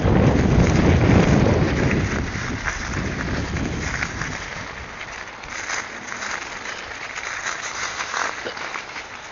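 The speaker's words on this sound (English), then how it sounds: "there's the wind again" Strong wind buffets a microphone outdoors on a canal-side route, a loud rumbling roar at the start that eases into steady, gusty buffeting for the rest.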